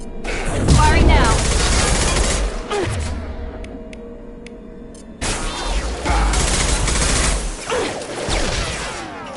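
Gunfire in Mass Effect 2: dense, loud bursts of shots and booming impacts that fill the first few seconds, then a quieter lull, then another heavy barrage, with voices heard over the combat.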